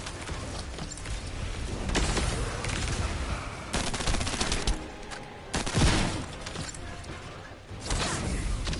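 Rapid gunfire in the video game The First Descendant as controllers are destroyed, with dense repeated weapon bursts and mechanical clatter filling the mix continuously at high level.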